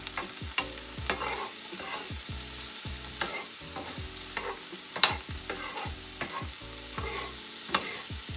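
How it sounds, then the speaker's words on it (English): Low-carb cabbage sautéing in a pan, a steady sizzle under repeated rhythmic scraping and tapping of a utensil against the pan, fairly close, with no voices. "we're just going to let that continue to saute while this cooks down"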